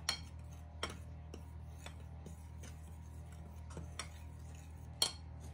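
Spoon or utensil clinking against a bowl while pepper is mixed into chicken, a few sharp taps scattered over steady low room hum, fairly quiet.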